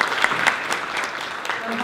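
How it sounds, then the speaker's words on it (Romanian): An audience claps steadily for a couple of seconds, a dense patter of many hands fairly close by. "am să vă rog să ne întâmpinăm în aplauze"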